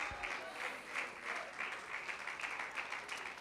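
Congregation applause during a Christian sermon, a steady wash of many hands clapping at moderate distance, sustained evenly for several seconds with no voices over it.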